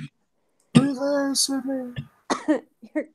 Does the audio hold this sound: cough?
yes